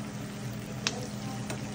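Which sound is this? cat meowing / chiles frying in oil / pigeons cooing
chiles frying in oil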